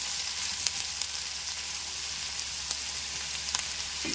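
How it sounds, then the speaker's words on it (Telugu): Ingredients for a brinjal curry frying in oil in a pan, a steady close sizzle with small crackles throughout, no talk. "పచ్చివాసన రాకుండా చక్కగా వేగిపోవాలి. నూనెలో కదా మగ్గిపోవాలి."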